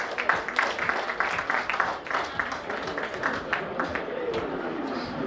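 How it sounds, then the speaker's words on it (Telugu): Applause from a crowd at a lucky draw meeting held by a real estate developer, a burst of clapping from many hands that fades into murmuring, with a person talking over it. "ఒకసారి బిగ్ క్లాప్స్ ప్లీజ్."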